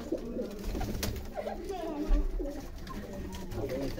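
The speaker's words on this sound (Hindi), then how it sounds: "कबूतरों का शौक दिखवाए।" Pigeons coo in soft low murmurs close by, mixed with some background voices and rustling.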